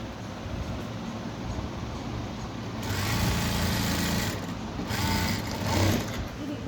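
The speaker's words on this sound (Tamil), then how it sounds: "நம்ம இதில் லேஸ் தைக்க போகிறோம்." A sewing machine runs close by while stitching lace onto a blouse neckline, a steady whirring hum that speeds up into two louder bursts of fast stitching.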